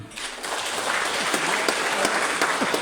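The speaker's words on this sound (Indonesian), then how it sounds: "Tepuk tangan dulu ya" Students and guests clap at the opening of a school sports competition in Ngada; a steady wash of crowd applause with a few sharper individual claps standing out, fairly loud.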